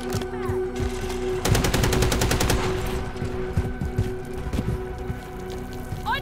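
Remote turret machine gun in Call of Duty: Modern Warfare 3 on the Afghan map, firing one loud, rapid burst of about a second amid continuous battlefield noise, with scattered shots before and after.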